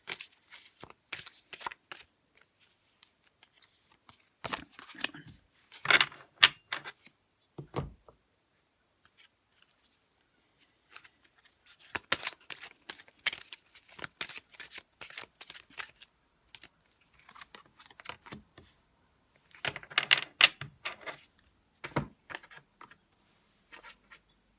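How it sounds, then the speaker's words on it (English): Oracle cards shuffled and drawn from a deck, close papery riffles and slides in short scattered bursts separated by quiet gaps, with no voices. "just going to pull 3 oracle cards"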